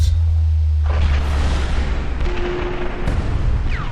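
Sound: explosion in a video game

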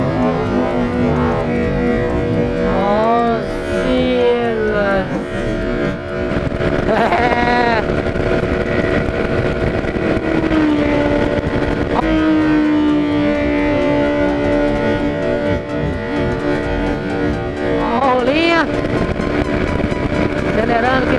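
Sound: motorcycle accelerating

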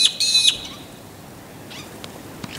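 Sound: Indian myna birds calling

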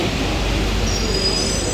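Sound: Paris metro train arriving at the station

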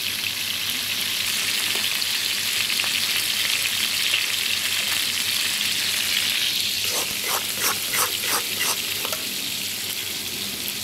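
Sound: onions frying in oil for Sylheti katla fish curry

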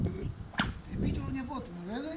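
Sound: whip cracking

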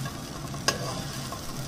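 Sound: stirring raw banana curry with spice powder in a pan

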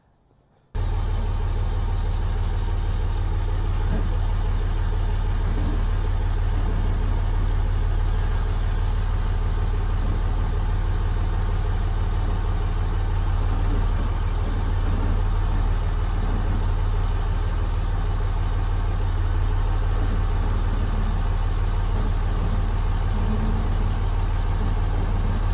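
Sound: truck engine running while turning around

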